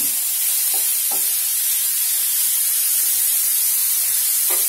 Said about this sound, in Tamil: சேர்த்து நல்லாவே நம்ம வதக்கி விட்டுக்கலாம்